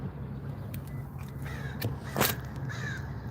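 Several crows call from up on a light post while being fed outdoors, a few separate caws sounding at moderate distance over steady low background hum, with no talking.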